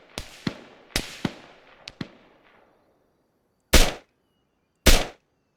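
Gunfire during a field shooting operation: several sharp outdoor reports in a quick ragged burst with trailing echoes, then after a short pause two louder, isolated shots spaced about a second apart.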